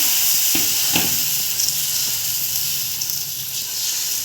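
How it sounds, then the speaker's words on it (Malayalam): Rice batter spreads and cooks in a hot pan for a Kerala ada snack, giving a steady soft sizzle and hiss with a few faint scraping touches as it is spread. "ഇനി ഈ മാവ് പാനിലേക്ക് ഒഴിച്ചു കൊടുക്കാം ഇത് ഒന്ന് പരത്തി കൊടുക്കണം"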